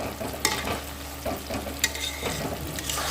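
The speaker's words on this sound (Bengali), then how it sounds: "আমি যে কাজু কিশমিশ চারমগজ এবং পোস্ত দিয়েছি সেটা কিন্তু আমাকে ভালো করে কষিয়ে নিতে হবে" Cashews, raisins, melon seeds and poppy seeds being sautéed in a pan for a Kashmiri shahi paneer, with a soft steady sizzle broken by a few sharp scraping stirs of the spoon, close and fairly quiet.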